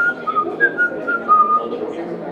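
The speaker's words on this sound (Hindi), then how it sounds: "अलेक्सा सीटी बजा सकती हो?" Amazon Alexa smart speaker whistles a short tune, a clear melodic whistle of several gliding notes over soft background murmur, close and moderately loud.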